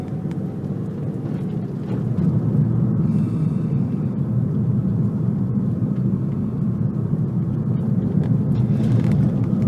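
Steady low rumble of a car being driven at a constant pace, heard from inside as continuous road and engine drone with no voices.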